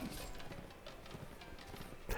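Horse hooves clip-clopping during riding in the game Mount & Blade: Warband with the Gekokujo mod, a quick, steady run of soft rhythmic hoofbeats at moderate distance, fairly quiet and uninterrupted.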